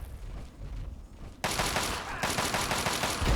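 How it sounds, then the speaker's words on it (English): Dense gunfire from Talon Company attackers in Fallout 3, a sudden loud burst of rapid automatic shots starting partway through and continuing to the end, following quieter scattered background noise. "Who's shooting us?"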